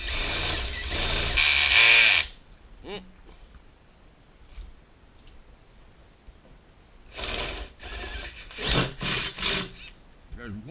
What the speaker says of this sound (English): I'm going to take a 1/2-inch drill and just run holes down through there